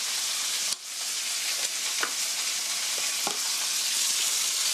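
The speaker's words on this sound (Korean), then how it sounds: "썰어 놓은 포크 돼지고기 넣어주세요." Sliced pork for a stir-fry with kimchi hits a hot pan and sizzles loudly in a dense, steady hiss, with a few faint taps from the pan. Close and with no talk.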